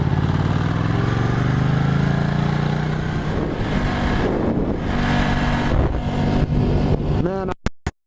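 A motorcycle in race mode is ridden hard, its engine droning and shifting pitch close to the microphone with wind buffeting throughout, before the sound cuts out into a few sharp clicks at the end.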